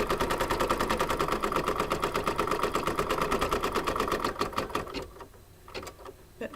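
A home embroidery sewing machine stitches fabric tacked onto felt for an apple coaster, a fast steady needle clatter that runs loud and even, then breaks into a few slower separate stitches near the end.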